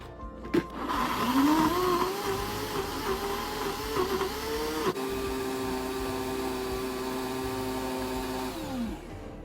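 A blender grinds soaked dried chilies, shallots and cleaned dried anchovies with water into chili paste. The motor whirs steadily and loudly throughout, its pitch shifting as the paste churns, with a brief knock near the middle.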